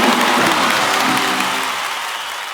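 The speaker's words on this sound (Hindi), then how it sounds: "इन सबके लिए जोरदार तालियां हो जाएं।" Brief burst of audience applause for the artists and crew at a Shah Rukh Khan stage event in Delhi, loud clapping with faint cheers fading away over a couple of seconds.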